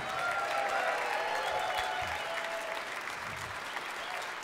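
An audience at a big band jazz performance applauds the band: dense, sustained clapping from a crowd, steady and fairly loud throughout, with no clear talk over it.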